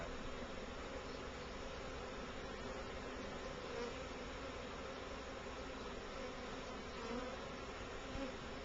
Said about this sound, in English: Now yesterday's swarm I had within 20 minutes, they were all in the box.